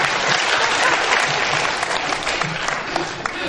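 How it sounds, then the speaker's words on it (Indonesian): Brief burst of dense audience applause at an Indonesian seminar, loud and close, holding steady for a few seconds with faint voices beneath. "Tepuk tangan untuk kebaikannya."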